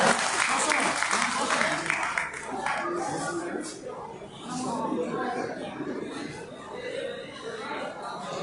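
Crowd applause at a general body meeting of a trade association, steady clapping from a seated audience that dips briefly midway and then swells again, with scattered chatter and a few chuckles mixed in.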